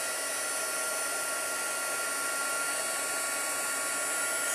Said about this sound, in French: je vais faire un peu de bruit. Je vais chauffer tout ça.